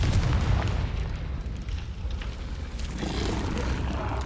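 A Confringo blasting spell goes off in the video game Hogwarts Legacy, a heavy close boom at the start that rumbles away, followed by a further lower burst toward the end.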